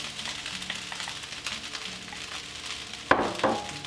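Pork and egg fry in a pan for pork fried rice, a steady close sizzle and crackle, ending with a couple of sharp clinks of a utensil against the pan.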